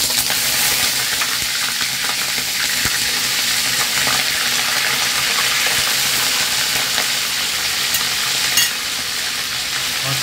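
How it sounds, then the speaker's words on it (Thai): Pieces of bonito fish fry in hot oil with a steady, close, loud sizzle and crackle throughout, with occasional stirring and no talking. "เราจะทอดเนื้อปลานะ"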